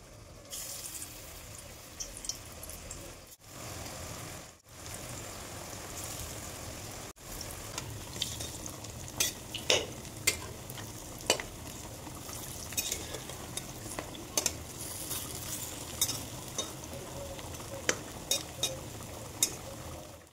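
Chana dal fritters fry in oil in a wok, a low steady sizzle broken by sharp clicks and clinks of a utensil against the metal, with short pauses partway through and no voices.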